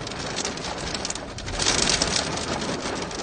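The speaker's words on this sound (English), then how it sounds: "You can see now it's raining outside." Rain falls outside in Bangkok as a dense, steady hiss that swells slightly midway, with no voices.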